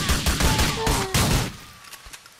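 Gunfire in the video game GTA 4 rings out as a dense, loud burst of rapid shots for about a second and a half, then fades into scattered lighter pops.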